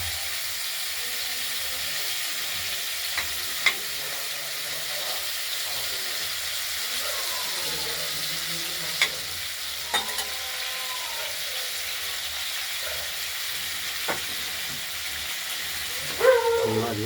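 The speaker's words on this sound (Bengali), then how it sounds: "নুন হলুদ মাখিয়ে আমরা ভেজে নিচ্ছি" Giant river prawns coated in salt and turmeric fry in oil in a kadai, giving a soft, steady sizzle with a few sharp pops and clinks scattered through it.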